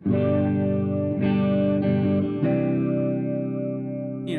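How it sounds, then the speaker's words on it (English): Sustained guitar chords through a four-stage phaser, a sweeping tonal swirl over steady held notes, a few chord changes, loud and close, no voices. "the Phase 90 is a 4-stage phaser, not a 6-stage phaser"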